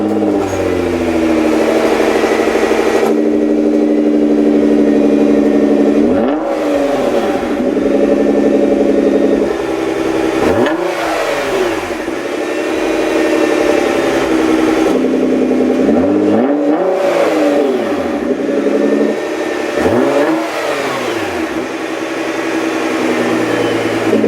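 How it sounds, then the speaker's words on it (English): Nissan GT-R with a straight-piped exhaust and its valves open, idling with a loud, steady, deep rumble and a few sharp blips of revving throughout, close up with no talking. "We'll go ahead and get a quick warm start of the car with the valves open just to get an idea of what it sounds like right now."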